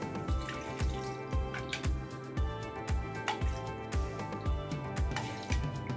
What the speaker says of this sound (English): We're gonna pour our bourbon.